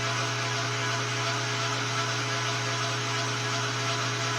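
A lathe cuts a thread relief at the front of a 5/16 thread for a muzzle brake, producing a loud, steady machine hum and whir that holds constant without pause and with no talk.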